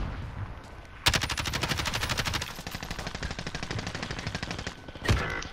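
Rapid automatic gunfire crackles in a shooter video game near a train station, a long loud burst of evenly spaced shots followed by a single sharp shot near the end.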